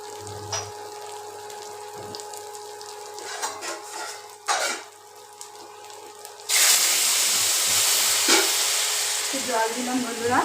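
Water hits frying spices in a pan with a sudden loud hiss that holds steady for several seconds, following quieter stirring and a few knocks of utensils.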